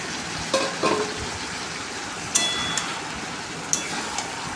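Chicken pieces sizzle and fry in a pan with chili powder and biryani spice mix, a steady broadband crackle with a few louder spatters and stirring scrapes, close and alone with no talk.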